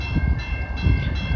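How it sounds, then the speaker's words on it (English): VIA Rail passenger train 84 pulling out of the London, Ontario station in winter, a steady rumble of rolling wheels and engine with a faint tonal whine above it, continuous and fairly close. "We got Via 84 departing the London station."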